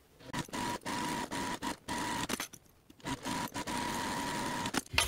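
A sewing machine stitching a slip pocket for a business bag along its long fabric edges, running in steady whirring bursts with a constant mechanical tone, broken by short pauses and a longer stop partway through, close and alone without speech.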